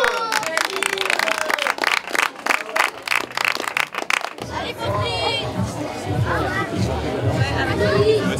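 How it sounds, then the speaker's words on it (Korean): Audience at a village festival in Finhaut, Switzerland, clapping for children in a sport climbing competition: brisk, dense applause up close, then giving way to lively crowd chatter and voices. "성공하지 못해도 격려의 박수를 아끼지 않는 모습이 보기 좋았다."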